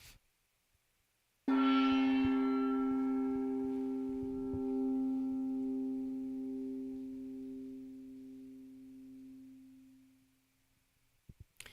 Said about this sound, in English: So we hit the gong for the first time, affirming that there is only love.